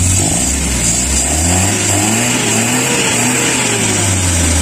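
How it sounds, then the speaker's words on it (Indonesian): CNG-converted car engine being revved repeatedly at idle, a steady mid-pitched engine drone with rising and falling throttle blips, close and continuous with no talk. "Coba lihat, kita gas-gas ya."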